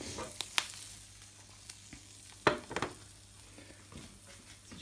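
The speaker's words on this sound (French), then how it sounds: "On va y rajouter du curry. Voilà, comme ça. Ça va le faire. On va mélanger un petit peu." Curry powder is stirred into a sizzling frying pan, giving a low steady hiss with several scraping, clinking utensil strokes against the pan, up close and without talk.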